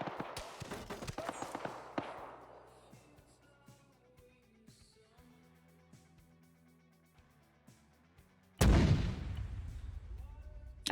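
Heavy artillery fire in Arma 3: a cluster of sharp booming impacts opens, decays into a long rumbling tail, then one loud close blast lands near the end with a rolling after-rumble.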